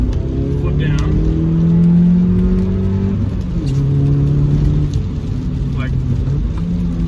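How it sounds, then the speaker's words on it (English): A 2016 Volkswagen Polo GTI (6C) accelerating hard after a downshift, the engine note climbing steadily in pitch, dropping at a gear change and rising again, heard from inside the cabin while someone talks over it. "literally drop a gear, foot down,"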